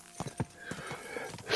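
A horse walking in Kingdom Come: Deliverance II gives a few faint, irregular hoof clops over a quiet ambient background.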